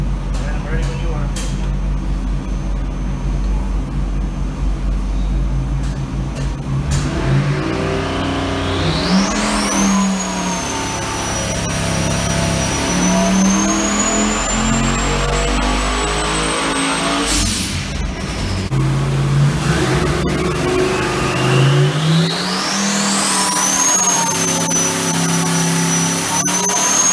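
Turbocharged car engine revving hard through repeated dyno pulls, rising whining sweeps climbing and dropping in a loud, continuous roar with turbo whistle, under people talking.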